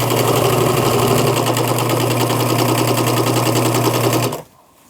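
A sewing machine back-stitching a t-shirt runs loud and close in a steady, continuous whir for about four seconds, then stops abruptly, leaving near silence.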